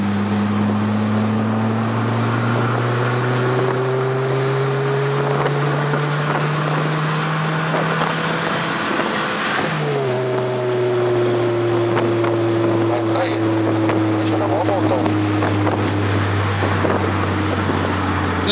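Steady drone of a Volkswagen Golf GTI turbo car driving, engine note rising through the gears with a clear shift midway, heard from inside with constant road and wind roar and no talking.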